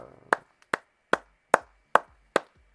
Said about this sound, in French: Il n'y a qu'une personne qui applaudit.